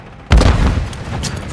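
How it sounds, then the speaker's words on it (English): A stun grenade detonates in Call of Duty MW3 on the Terminal map during a team deathmatch, a sudden loud boom followed by a lingering ringing wash of noise, with faint voices underneath. "Stun grenade out!"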